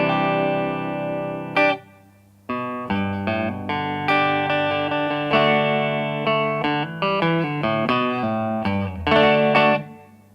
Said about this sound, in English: it turns on both the reverb and the tremolo in a more pronounced effect if I want to get spacey.